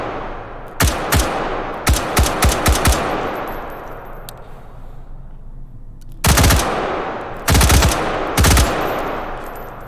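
Bursts of M16 rifle fire in the H3VR virtual reality shooter: a quick string of single shots early, then three loud, dense automatic bursts near the end, with no talking.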